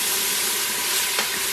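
Garlic frying in oil in an Instant Pot gives a steady, loud hiss of sizzling throughout, with a brief sharper crackle near the end.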